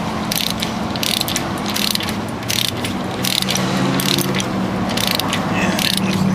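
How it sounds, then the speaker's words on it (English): Ratcheting on a nut being removed from a 1926-1934 kingpin, a steady run of close, rapid metallic clicks that continue without pause and with no voices. "when you take your nut off, that'll clean the threads up"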